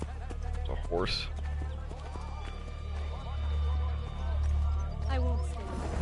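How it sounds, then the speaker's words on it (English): Rhythmic hoofbeats of a horse clip-clopping at a steady pace in Assassin's Creed Brotherhood, with a brief whinny and a low droning backdrop. "It's a horse."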